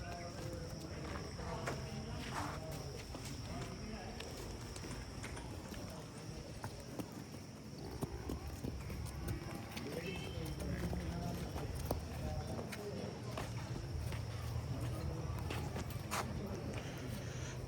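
Hooves of a young female buffalo being walked along at a livestock showing, steady soft steps over a busy background of voices and crowd noise.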